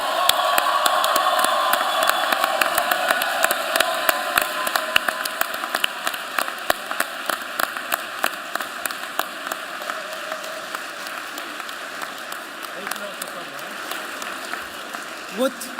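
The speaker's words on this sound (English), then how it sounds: "may we have applause for Cambridge" An audience at the Vis Moot awards ceremony applauds the Cambridge team, starting as fuller clapping that thins to scattered, distinct claps over a steady background hum, with faint voices.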